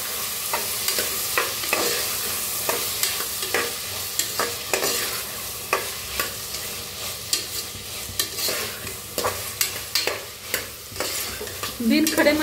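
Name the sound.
potatoes being stirred and fried in pan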